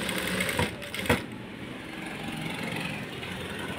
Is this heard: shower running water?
no